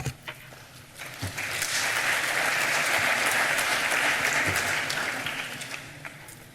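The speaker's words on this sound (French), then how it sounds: "vous n'avez pas besoin de nous applaudir chaque fois" Audience applause at an educators' presentation swells from scattered claps into a dense, sustained round, then fades away, with no talk.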